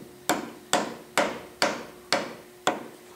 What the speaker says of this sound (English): I like to use a plastic or a soft hammer to tap it into alignment